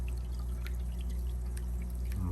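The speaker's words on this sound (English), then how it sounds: "this water is going to flow over" Water spills over the edge of a TopFin PRO50 aquarium power filter, making a steady close pouring and splashing sound with faint drips and a low constant hum underneath.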